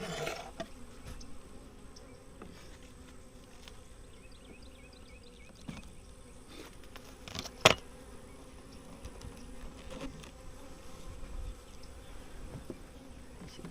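Honey bees buzz around an open hive with capped brood, a steady low insect drone with a few nearer passes and one sharp brief knock midway, fairly faint throughout.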